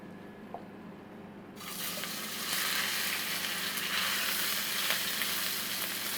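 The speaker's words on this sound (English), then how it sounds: "We have a pan here with a little bit of oil, and we're going to add our beef that we have marinated for some time." Marinated sirloin beef dropped into a lightly oiled pan, a quiet start giving way at once to loud, steady sizzling and spitting frying that continues to the end.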